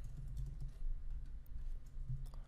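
A computer keyboard clicks in soft, rapid keystrokes under a low steady hum, as someone types an expression into Houdini.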